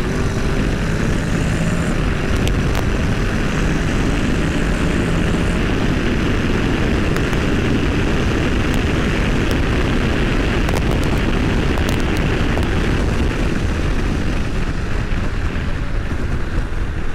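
A 2022 Honda NC 750X with DCT automatic transmission accelerating at speed, a steady loud engine drone blended with heavy wind rush across the whole stretch, no talking heard.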